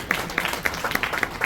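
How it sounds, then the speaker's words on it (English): Audience applause at a hip-hop book talk, a short patch of scattered clapping from a modest crowd with a few sharper individual claps standing out, fairly close and without talk over it. "Give him a round of applause once again."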